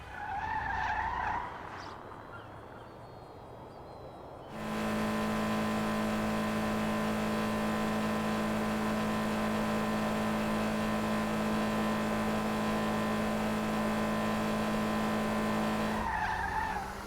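A fully electric No Way Vivinite car in GTA 5 rolls at speed with a steady, even electric whine and road hum, no engine note, after a brief stretch of tire noise at the start.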